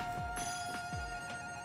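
A phone ringing as a notification, a repeating electronic tone pattern held steady at a moderate level with no one speaking over it.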